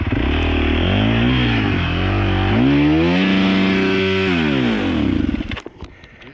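Off-road motorcycle engine at a riding area with its throttle stuck open, screaming loud and close at high revs with wavering pitch for several seconds before cutting out abruptly near the end.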